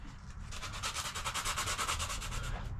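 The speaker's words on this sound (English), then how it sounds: "just kind of scuff it up" Coarse 80-100 grit sandpaper scuffs a subwoofer part for a recone repair on a Sundown Audio NS.v4 18-inch driver, giving a close, steady run of rhythmic back-and-forth rasping strokes.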